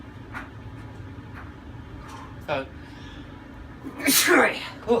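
A single sharp sneeze bursts out near the end, loud and close, after a stretch of quiet background murmur.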